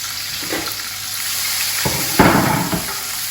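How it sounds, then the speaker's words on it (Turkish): Red kapya peppers sauté in oil with a steady broadband sizzle that swells louder near the end as the pan is stirred, close and continuous with no talking. "Şimdi aynı yağın içinde kapya biberleri de kavurmaya devam edeceğiz."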